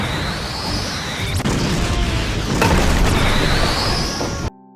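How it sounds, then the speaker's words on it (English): A huge explosion from a fire bullet spell in an anime blasts through a wall, a loud sustained roaring burst with crackling debris and a sharp crash partway through, cutting off abruptly at the end. "The fire bullet spell caused a huge explosion that went through the wall."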